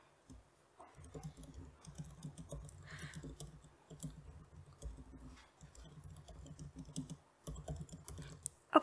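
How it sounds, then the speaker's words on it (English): Rapid typing on a computer keyboard during an online meeting, quiet clustered clicks in irregular bursts with short pauses, close and alone without talk. "that's where I'm typing those down"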